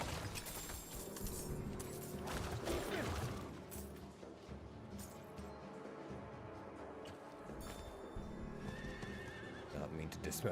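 Horse neighing and hooves clip-clopping in the video game Diablo 4, with whinnies over steady trotting hoofbeats amid game crashes and mechanical clatter, while a person talks over it.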